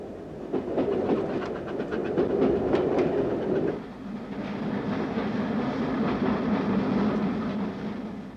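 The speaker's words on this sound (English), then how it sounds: "steam trains are back in action, if only on a short stretch of line" A steam train runs on the preserved Great Central Railway near Loughborough, a steady rumble with rhythmic clickety-clack of wheels over rail joints, close and continuous, the tone shifting partway through as the carriages pass.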